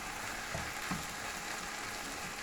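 Pasta with pork scratchings being stirred in a pan, heard as a soft, steady sizzle with faint stirring scrapes throughout and no talk.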